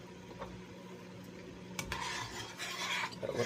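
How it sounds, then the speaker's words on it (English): A spoon stirs boiling pasta in a steaming pot, a soft scraping swirl rising in the second half over a low bubbling hiss, with no talking. "Give it a little bit of a stir again."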